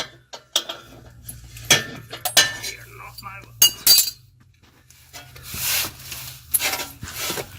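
Hand tools working an exhaust clamp on a Ford Focus ST downpipe, scattered metallic clinks, scrapes and rubbing knocks in irregular bursts with brief quiet gaps, close by.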